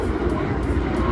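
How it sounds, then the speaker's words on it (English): A fixed-wing airplane passes overhead near the Lincoln Memorial in Washington, D.C., giving a steady, fairly loud broadband engine roar that holds for the whole brief moment with no voices over it. "Oh, look, and there's an airplane."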